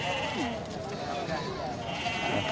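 A ram bleats at a livestock auction, a short wavering bleat heard faintly amid a noisy crowd, with people talking over it throughout.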